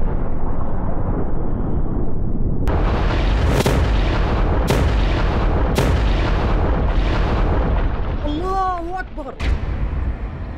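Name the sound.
explosion blowing up a bulldozer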